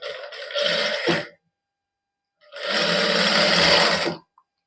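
A sewing machine stitches the shoulder seam of a shirt in two close runs, a short burst followed after a pause by a longer steady whirring run.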